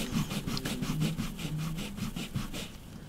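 An art eraser rubbed clean against a surface, its flat face as well as the tip, giving a steady run of quick, close scrubbing strokes in an even rhythm with no voices.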